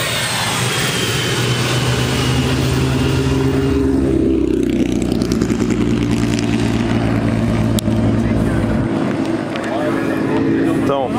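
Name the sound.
passing car sounding like an airplane jet engine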